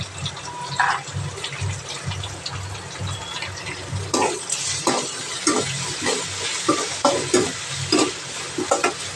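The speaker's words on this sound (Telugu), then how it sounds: "కొన్నిగా సాల్ట్ వేసుకుని బాగా వేగాలి" Onions and salt frying in a pan for kaara chutney give a steady sizzle, joined midway by a run of sharp, rhythmic scraping stirs of the spoon against the pan.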